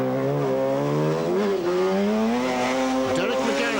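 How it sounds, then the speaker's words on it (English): A Mazda rally car at speed on a stage of the 1991 Lurgan Park Rally, its engine a loud, sustained note with pitch sweeping up and down, close by and continuous throughout, with a hint of tyre noise. "Hill and Nigel McGee maintain 7th place, and some amazing angles on the Mazda."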